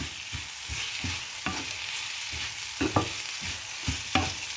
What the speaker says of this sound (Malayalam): ലേശം ഉപ്പിട്ടിട്ട് നമ്മൾ സവാള ഒന്ന് വഴറ്റുകയാണ്